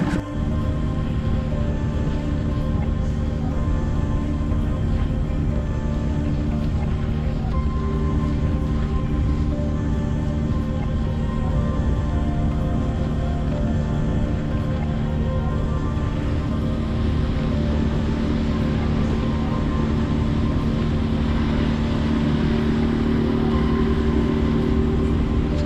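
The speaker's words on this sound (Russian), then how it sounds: "Сейчас мотор опущу и попрем." An outboard motor drives a fishing boat on the Volga in April, a loud continuous droning hum with steady harmonic tones throughout, no voices.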